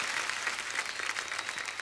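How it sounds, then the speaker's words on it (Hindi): A studio audience at a Hindi comedy show applauds, a dense, even wash of clapping heard at a distance and fairly quiet. "आप सबकी जोरदार तालियों के बीच प्लीज वेलकम फरहाद सामजी।"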